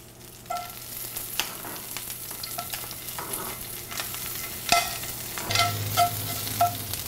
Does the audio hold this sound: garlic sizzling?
yes